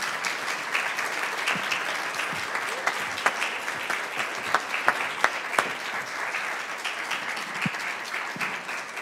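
Sustained audience applause at an evening distinguished lecture, a dense steady wash of many hands clapping for the full length, with a few sharper individual claps standing out near the middle and no one speaking over it.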